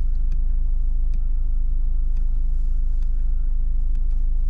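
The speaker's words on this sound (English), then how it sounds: "Fired up with the push button start. Fires right up." A 2023 Mazda MX-5 Miata GT RF idles just after a push-button start, a steady, close, low engine hum that stays even for several seconds with no voices.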